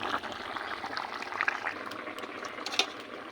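Curry simmers in a wok, giving a continuous bubbling, hissing boil at moderate loudness with small spatters and no voices.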